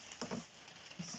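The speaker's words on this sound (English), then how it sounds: "Oh, it really is starting to rain." Rain falling outdoors in a steady soft patter, fairly close and continuous with a few brief louder spatters.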